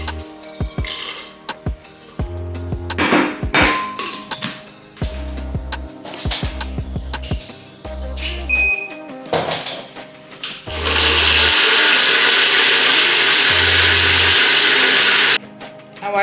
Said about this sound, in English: let's start blending our dry items.